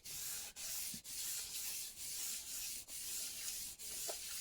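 Spalted wood stained with red dye is hand-sanded in steady back-and-forth strokes about every half second, a soft continuous hiss that stays faint and even throughout.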